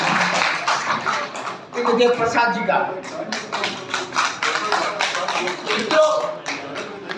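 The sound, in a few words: applause from an audience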